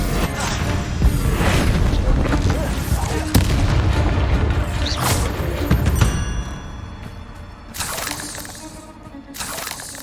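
A Compulso spell blast in Hogwarts Legacy: loud booming, shattering bursts with rumbling debris and magical whooshes, several impacts spread across the stretch of combat.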